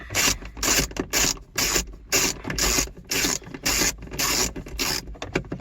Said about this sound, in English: I'm just going to remove those 4 8mm bolts. I just got a ratchet and an 8mm.